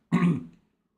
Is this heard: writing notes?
no